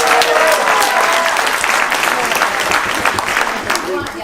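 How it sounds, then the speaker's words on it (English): An audience applauds at a student CreateAthon event, a dense, sustained burst of many hands clapping that stays loud throughout and tapers slightly near the end. "So give them a round of applause."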